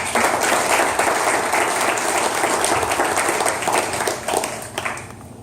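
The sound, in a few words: audience applause welcoming presenters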